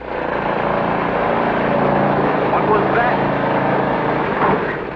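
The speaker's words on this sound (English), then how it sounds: "Pesky lawnmower." A lawnmower drones steadily nearby under a lively exchange of voices, its engine buzz continuous and fairly loud throughout.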